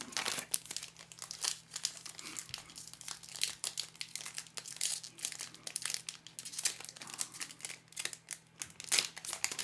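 Magic: The Gathering Phyrexia: All Will Be One set booster packs being torn open, their foil wrappers crinkling and crackling in dense, rapid bursts close up, with no talk over the rustling.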